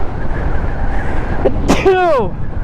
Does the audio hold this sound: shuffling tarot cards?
no